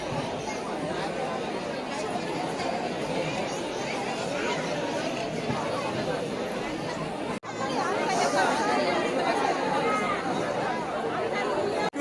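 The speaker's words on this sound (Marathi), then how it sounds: "गर्दी गर्दी." Crowd of pilgrims chattering at Ekvira temple, a dense, steady babble of many voices close around, continuous throughout with a brief dip partway.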